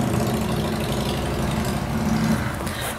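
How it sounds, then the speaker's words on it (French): A steady, close engine rumble drones outside an open window in a home, consistent with motorcycles, holding an even level for the whole stretch with no clear pass-by swell. "c'est chiant d'entendre le bruit des motos quand t'as la fenêtre ouverte et que t'es chez toi"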